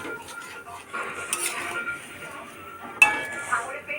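A pot of fish curry lifted off the stove: close metallic clinks and clatters of the pan and utensils, a sharp clang partway through, with a person talking quietly.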